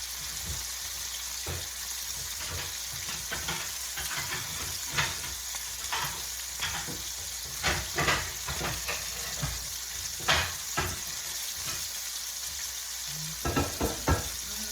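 Catfish fillets sizzling in a hot pan, a steady crackling fry with scattered louder pops and spits throughout, close and continuous with no talking.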